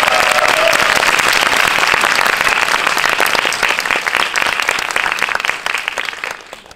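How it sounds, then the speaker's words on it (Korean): A large cinema audience at a film screening event applauds loudly and steadily, a dense wash of clapping that tapers off toward the end. "혹시 그러셨다면은 환호와 함께 큰 박수 한번 보내주세요."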